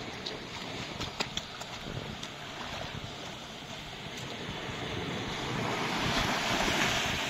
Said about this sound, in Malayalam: നല്ല തിരയുള്ള സമയമാണ്.